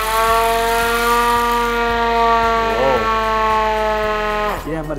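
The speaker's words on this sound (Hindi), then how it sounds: "ये इमरजेंसी सायरन है और ये मैनुअल है" A loud hand-cranked siren wails steadily at a sustained pitch, briefly dipping and rising again, with a faint rhythmic clicking beneath.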